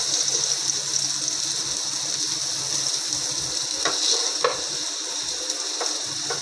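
Mackerel (bangda) fries in hot oil in a pan, a steady close sizzle with a few brief clinks or scrapes of a utensil partway through.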